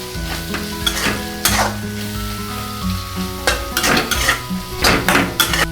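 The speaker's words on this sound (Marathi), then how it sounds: "गोडा मसाला घालते अर्धा चमच तिखट मसाला घालते आणि थोडासा कश्मीरी मसाला आता आपण मिक्स करून घेऊया" Goda masala, chilli powder and a little Kashmiri masala are stirred into oil in a pan for brinjal bhaji, giving scraping spoon strokes over a soft sizzle. Bursts of stirring come and go against steady background music.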